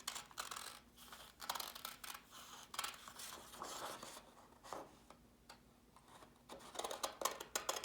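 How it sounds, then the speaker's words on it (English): Scissors snipping around a paper cat outline, a string of quiet, irregular crisp snips and rustles of paper, close and faint, with no talking. "I am going to take my scissors and I'm going to cut and go on the outside of my cat."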